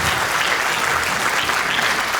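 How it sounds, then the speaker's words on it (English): Wedding reception guests applauding, dense continuous clapping from a sizeable crowd, loud and close, steady throughout with no talk over it. "give a round of applause to my father for the wonderful work he has"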